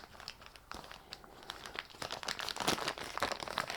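Wax paper crinkles and rustles continuously as cleaned, oiled camshafts are rolled up in it, with sharp crackling peaks growing louder toward the end, close and with no talk.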